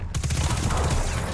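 Rapid gunfire at the Crux in the Destiny 2 raid Vow of the Disciple, a dense fusillade of close, loud shots rattling through the whole moment.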